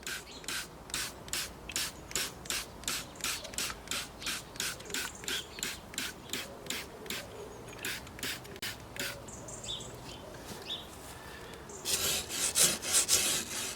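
A wire brush scrubs algae off a wooden fence in a steady back-and-forth rhythm, about two strokes per second, close and moderately loud, with a rougher burst of scraping near the end.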